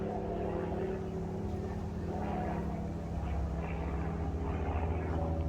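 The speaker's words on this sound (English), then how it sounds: "Do you like the plane noise?" A distant airplane drones overhead in an open backyard, a faint, steady low rumble with a humming tone that swells slightly partway through, no voices over it.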